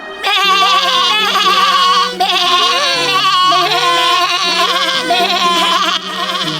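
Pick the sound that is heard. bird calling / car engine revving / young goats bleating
young goats bleating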